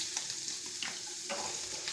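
Chillies fry in hot oil in a pan while a brinjal sabji is cooked, giving a quiet, steady sizzle with small crackles and no talking.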